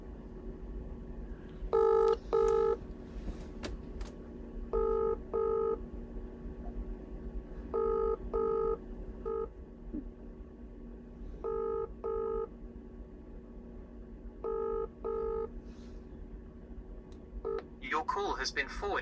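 Telephone keypad tones beep in short paired bursts, repeated several times while dialing a forwarded call. A low line hum runs underneath, and faint ringing and clatter come near the end.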